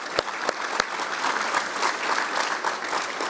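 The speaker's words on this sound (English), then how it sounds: "I have to take and just do a special round of applause" A round of applause at a Southlake chamber gathering honoring a past mayor, a steady crowd of clapping hands at moderate loudness, with a few sharp claps standing out near the start.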